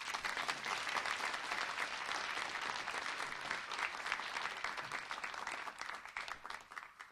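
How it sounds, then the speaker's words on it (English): Audience applause for a science panel at an evening event, a sustained wash of many clapping hands that thins and tapers toward the end, heard from a distance. "Let's give them another round of applause."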